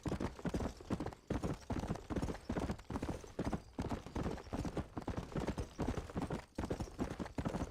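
Horse hooves clip-clop in a steady, brisk rhythm while riding in the Red Dead video game, an even gait of repeated hoofbeats throughout, fairly quiet and alone with no talk.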